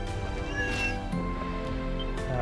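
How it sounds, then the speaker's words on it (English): A cat in the Ys video game gives a short, clear meow near the start, layered over steady in-game background music. No one speaks. "Meow, good cat."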